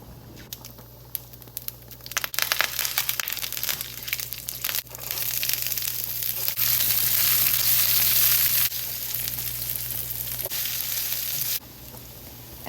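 Cumin, mustard and fenugreek seeds sizzle and crackle in hot oil in a pan. The frying is loud and steady and swells in the middle, with scattered pops from the seeds over a low constant hum.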